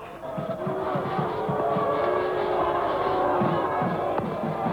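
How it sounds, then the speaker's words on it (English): Crowd noise at a 1996 Pakistan versus Sri Lanka cricket one-day international in Nairobi, a sustained roar of shouting and cheering from the stands with horn-like tones running through it. "Crowd getting a little noisy"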